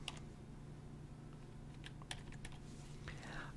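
A computer keyboard clicks with scattered quiet keystrokes as a city name is typed. The taps are close and soft, over a low hum, and nobody speaks.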